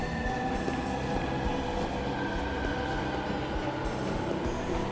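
Train from the video game 13 Sentinels: Aegis Rim, a steady, dense rumble with a faint high tonal whine running throughout, no voices over it.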